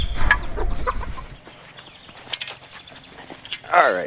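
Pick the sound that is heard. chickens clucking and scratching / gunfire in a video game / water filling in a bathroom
chickens clucking and scratching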